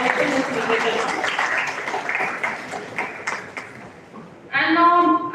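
Applause from students at a law college orientation ceremony in Delhi, scattered hand claps mixed with speech-like voices, fading off before a sharp tonal sound cuts in near the end.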